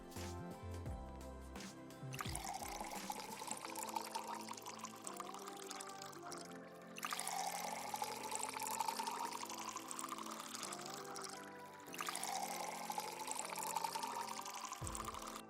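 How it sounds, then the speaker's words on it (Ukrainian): Liquid pours into a flask in a puzzle video game, three successive pours each rising in pitch as the vessel fills, separated by short pauses, heard alone and fairly close. "Починаємо наливати."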